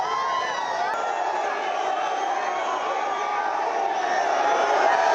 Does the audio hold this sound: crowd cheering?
yes